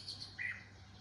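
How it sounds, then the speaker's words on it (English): Seagulls near a residential riverside area by the sea give a couple of short, faint high calls in the distance over quiet background air. "there are a lot of seagulls nearby, which you'll sometimes hear in the background"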